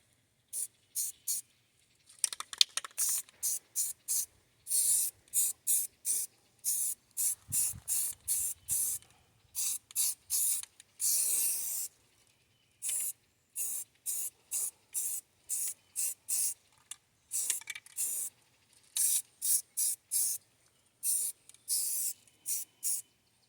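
Rapid bursts of aerosol primer spraying onto a car brake rotor, short hissing pulses repeated steadily in close-up with brief pauses between.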